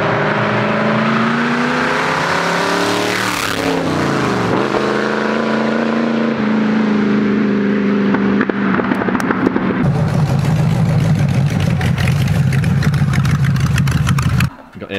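Loud engine of a 1928 hot rod revving hard, its pitch sweeping up and down before settling into a roaring, crackling drone, with voices faint beneath.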